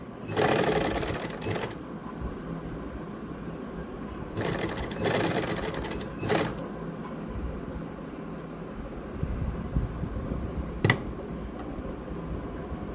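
A sewing machine stitches lace onto a sleeve design in bursts, the motor whirring on and off with short runs and pauses, fairly close against a quiet room.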